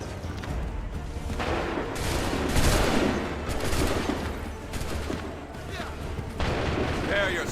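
Musket volleys from soldiers in the Assassin's Creed 3 video game, a loud, dense and continuous stretch of overlapping gunfire bursts with booming reports and a background of battlefield noise and voices.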